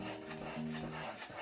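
A paintbrush lays a coat of aqua paint onto a wooden tray, giving soft, faint scratchy strokes over a low steady hum.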